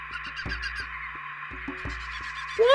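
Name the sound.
bird squawking in video game Playing History 2: Slave Trade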